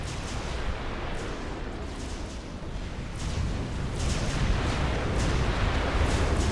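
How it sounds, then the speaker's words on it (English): Artillery fire in the strategy game Supreme Commander: Forged Alliance, a continuous rumbling barrage of booms and blasts over a dense low roar, steady and loud with no clear gaps. "His arty is actually still up and might be able to get some hits in here."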